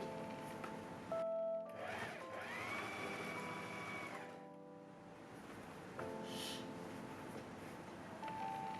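A sewing machine stitches elastics in bursts, a steady mechanical whir that starts and stops with short pauses between runs, close and moderately quiet with no talking.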